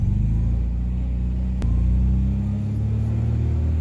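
A 1968 MGB with a manual stick shift runs at a steady low rumble while driving slowly around a parking lot, with the engine note shifting slightly partway through.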